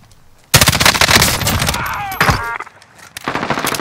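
Loud, rapid automatic gunfire in Call of Duty: Modern Warfare, with a dense rattling burst, a short pause, then another string of close shots.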